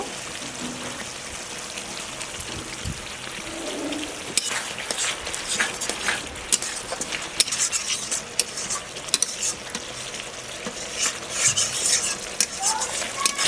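Masala being stirred and fried in a pan while cooking a potol malai curry: scraping spoon strokes and clinks over a soft sizzle, close and moderately loud, alone without talk.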